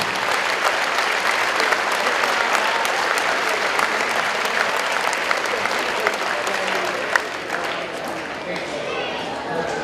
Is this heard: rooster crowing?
no